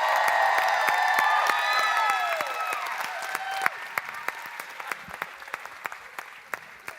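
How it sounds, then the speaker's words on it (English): Audience applause at FlipFest, a dense wash of clapping with some cheering that fades over the second half into scattered individual claps. "I want you to give them the applause that all of you deserve."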